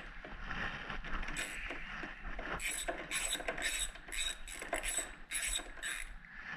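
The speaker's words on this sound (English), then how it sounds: "I'm taking this wheel off." Tools ratchet and click while a wheel comes off a Honda HRX217 lawn mower, a run of quick mechanical clicks and rattles over steady background noise, close and without talk.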